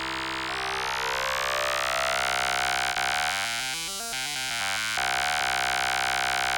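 A PO-35 pocket synth's vocoder sampling a Behringer Model D, a sustained buzzy synth tone with a rising whine early on, then a stepped, vowel-like vocoded phrase that rises and falls before the steady drone returns.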